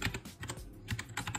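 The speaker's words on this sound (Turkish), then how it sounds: "Bir tam olarak klavyenin sesini dinletmek istiyorum size." Red-switch keys on a T60 mechanical keyboard clack in a quick, uneven typing burst, close and fairly quiet with no voices.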